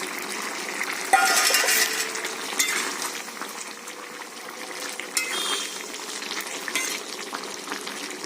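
Fried mourola fish slides into a simmering potato and eggplant curry, giving a steady bubbling sizzle with soft stirring scrapes and a few brief clinks, moderately close and with no talk.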